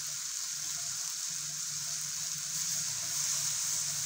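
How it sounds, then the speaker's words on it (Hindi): About a cup of water poured into a pan of cooking dal and spinach, a steady rushing hiss with a faint sizzle running for several seconds, close and fairly loud with no talk. "अब हम लोगों ने इसके अंदर तकरीबन 1 कप पानी डालना है"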